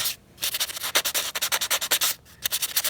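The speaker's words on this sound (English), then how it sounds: "I'm going to take some finer sandpaper and just do a little cleanup" A watch dial being sanded with fine sandpaper for cleanup, close and loud rhythmic rasping strokes in quick succession with a couple of short pauses, no talking.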